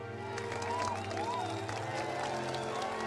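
Crowd in the video game Tainted Grail: The Fall of Avalon cheering and clapping, a steady, fairly distant roar of voices with music playing underneath throughout.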